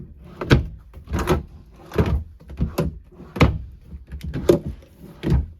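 Drawers in the bedroom of a 2018 Forest River Crusader 341RST RV are opened and shut repeatedly. The close, hollow thunks and slides come in a steady rhythm about every half second to second.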